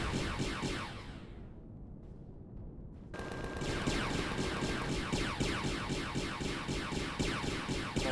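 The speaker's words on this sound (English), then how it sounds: "The laser turret is really powerful" Laser turret firing in the Empyrion game at a Zirax supply station: a steady stream of rapid repeated shots, briefly thinning out, then resuming loud and dense.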